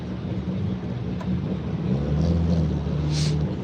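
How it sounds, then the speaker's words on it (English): Loud car exhausts at the Daikoku parking area in Tokyo, a steady low rumble that swells and holds near the listener with a brief higher burst toward the end, no talking. "the exhaust is getting really loud now"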